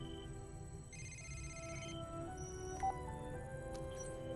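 A telephone rings in a movie scene, its electronic ringtone tones faint beneath a busy film soundtrack, repeating over several seconds.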